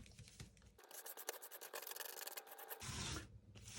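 Rough scraping across a white art table mat, a dense rasping texture that swells and holds through the middle and returns strongly near the end, close and fairly loud with no talk.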